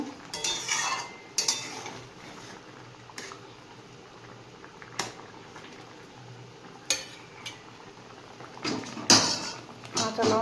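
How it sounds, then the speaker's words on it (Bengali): A fish curry is stirred in a cooking pot after salt goes in, with scattered scraping and clinking of a spoon against the pot over a low simmering background, a few sharper knocks standing out. "ভালো করে নাড়িয়ে নেব"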